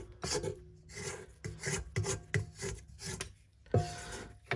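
Vegan raisin pretzel dough is scraped down the sides of a bowl in a run of close, rasping strokes with short pauses between them. Nobody speaks.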